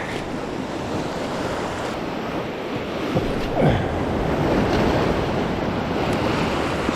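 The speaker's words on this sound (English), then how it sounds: "A little bit of fizz, a nice rolling swell." Ocean swell rolling in and water pouring over rocks at a fishing spot, a continuous loud rush of surf with wind buffeting the microphone, swelling slightly toward the end.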